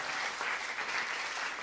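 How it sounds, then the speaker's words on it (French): A TV comedy talent show audience applauds, a steady wash of clapping that holds evenly throughout with no break. "Encore un peu tonnerre d'applaudissements s'il vous plaît"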